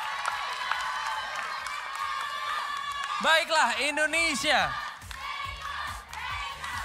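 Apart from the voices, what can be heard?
studio audience applause and cheering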